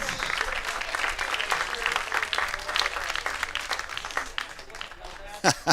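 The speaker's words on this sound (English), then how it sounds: "One more round of applause for Roscoe Perkins." Crowd at a youth baseball game applauds an honoured fan, a steady spread of clapping under a busy background of voices, with a few louder close bumps near the end.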